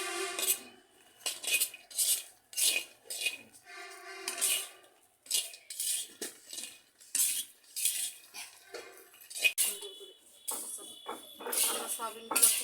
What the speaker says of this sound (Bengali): সয়াবিনগুলো খুব সুন্দর করে ভেজে নিচ্ছি।